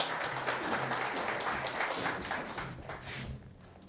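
A crowd gives a round of applause at an indoor gathering, a steady patter of many hands clapping that tapers off toward the end.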